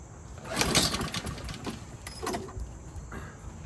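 A Craftsman push mower engine being pull-started gives a couple of short, rough cranking bursts that die away without catching.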